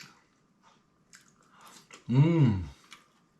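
A single close, moist chew of dried fish meat lasting under a second, with faint background sounds around it.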